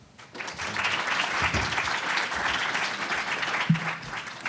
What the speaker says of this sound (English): Uncle Bobby, give him a round of applause.